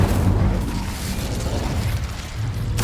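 A fiery Incendio spell from Hogwarts Legacy bursts out loud and close with a booming, crackling rush that holds through the clip, with a fresh flare at the very end.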